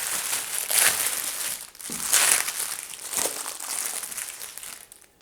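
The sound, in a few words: cutting open a plastic shipping package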